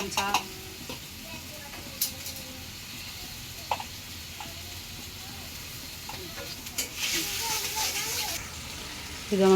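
Spice masala sizzling quietly in a pan while being stirred, with occasional spoon clinks and a brief louder hiss near the end, heard fairly faint and up close.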